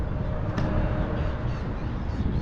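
Crows and other birds in a large flock call over high-tide water beside a fish kill, their caws blending into a steady, dense wash of outdoor noise with one sharper call standing out briefly.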